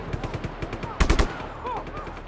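A grenade goes off against a billboard in Just Cause 3, a loud burst of stacked blasts in the middle, set against steady rapid clattering game noise that runs before and after.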